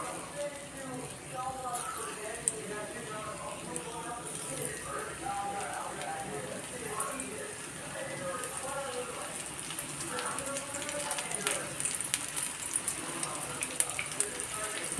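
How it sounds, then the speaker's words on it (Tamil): Paneer pakoda pieces dropped into hot oil fry with a steady dense crackle and sizzle throughout, close and moderately loud, while someone talks over it. "நல்லா எண்ணெய் காஞ்சிருச்சு இந்த காஞ்சதில் ஒரு ஒரு பனீராக எடுத்து போட்டுருவோம்"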